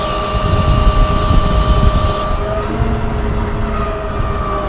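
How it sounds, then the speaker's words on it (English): The hydraulic articulating and telescopic boom of a 2019 Ram 5500 Versalift bucket truck runs with a loud, close, steady mechanical drone and whine that shifts pitch partway through, with no voices. "Now we're going to operate the articulating and telescopic boom."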